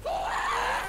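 A creature screaming in the Minecraft Nether, one drawn-out, wavering high-pitched shriek lasting about a second, loud and close.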